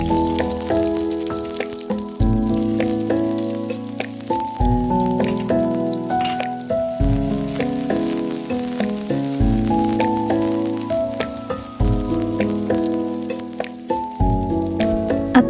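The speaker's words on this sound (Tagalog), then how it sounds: "igagisa muna natin yung ating garlic at saka yung ating onion" Garlic and onion sauté in a pan for a cheesy pasta, giving a loud, steady sizzle that crackles throughout, with a regular repeating tonal pattern over it and no spoken voices.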